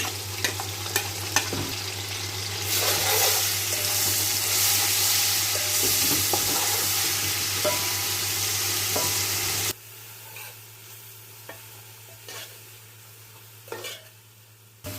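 Loud sizzling of garlic ginger paste in hot oil with stirring, then the frying drops to a quieter crackle with occasional utensil clicks.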